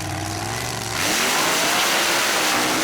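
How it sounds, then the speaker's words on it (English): A mud truck engine revs hard on a drag run at a mud racing event, idling briefly and then surging into a loud, roaring full-throttle blast that holds to the end. "And a blistering fast run laid down by the back in black car."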